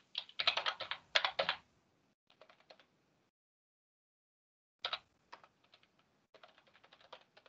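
Bursts of typing on a computer keyboard while writing a markdown file in VSCode, a quick flurry of close key clicks, a pause, then scattered keystrokes resuming; no talking.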